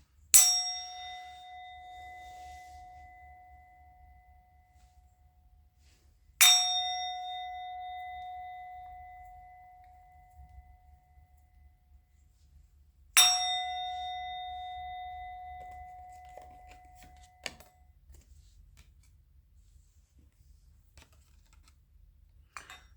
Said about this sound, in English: I'm going to ring the bell.